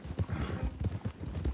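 A horse's hooves clip-clop in Red Dead Online, a quick, even rhythm of close thuds while the horse is ridden, with no talk over it.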